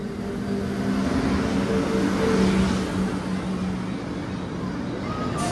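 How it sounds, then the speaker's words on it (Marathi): The Paschim Express rolls into a railway station platform with a broad, steady rumble and a low droning hum that fades toward the end, heard close and continuous. "गाडी आलेली आहे. चला, पश्चिम एक्सप्रेस."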